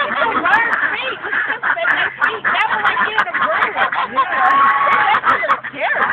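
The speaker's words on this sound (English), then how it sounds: "They ain't nothing but some birds." A flock of geese or ducks honks and quacks nearby during bird feeding, a dense loud chorus of overlapping calls with no pause, while a person talks over it.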